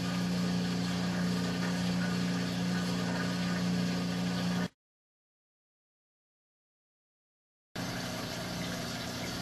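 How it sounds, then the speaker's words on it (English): A Gray Mills coolant pump on a lathe runs with a steady, droning hum, cut off by a stretch of silence and then resuming at the same level. "This is a Gray Mills pump we have here for our lathe."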